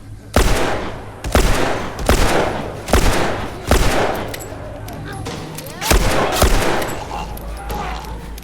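Gunshots in the video game No Return (The Last of Us Part II): about eight loud, sharp reports come singly and in close pairs at irregular intervals over a low game ambience.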